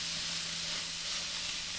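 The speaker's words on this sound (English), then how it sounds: "I'll go ahead and put these guys on here and let them start searing." Steaks searing on a hot grill grate give off a steady, close, broadband sizzle and hiss that holds constant throughout.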